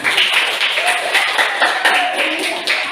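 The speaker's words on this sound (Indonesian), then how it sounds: "tepuk tangan" A group in a classroom claps together steadily for a few seconds, a dense, continuous patter of hand claps filling the room.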